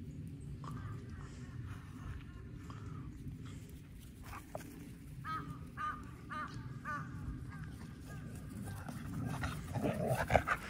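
Crows caw in a series of hoarse calls at a moderate distance over a steady outdoor rumble, with a dog's panting and movement nearby.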